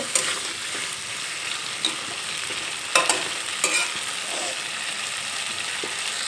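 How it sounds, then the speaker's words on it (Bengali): Fried potato and papaya pieces stirred into spices in a pan, a steady bright sizzle running throughout with occasional spoon scrapes and taps close by, and no voices. "একটু নেড়ে চেড়ে নেব মশলার সঙ্গে আলু আর পেঁপে খুব ভালোভাবে মিশিয়ে নেব"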